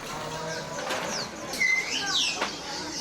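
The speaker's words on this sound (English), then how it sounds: "You've got birds kind of chirping everywhere" Birds call and chirp at a busy street market in Nanjing, scattered whistles and a cooing note over a steady background murmur of the crowd.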